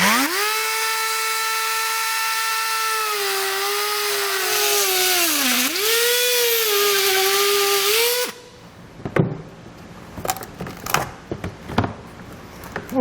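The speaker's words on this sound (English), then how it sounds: "This is pretty thick plastic, so I'm going to use a Dremel tool." A Dremel rotary tool cuts thick plastic trim for a 2015 Jeep Cherokee tow base plate install. A loud, steady high-pitched whine dips in pitch under load and runs about eight seconds, then cuts off into scattered clunks and handling noises.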